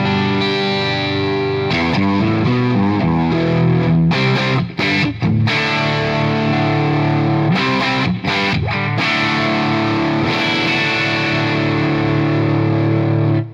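A 1965 Gibson 335 semi-hollow electric guitar is picked through an overdriven amp, giving continuous gritty chords and riffs with brief choppy stops and audible pick attack, loud and close, with no voices.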